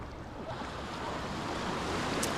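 Ocean surf washes continuously onto a California beach, a broad steady rush of breaking waves with some wind noise on the microphone and no talking.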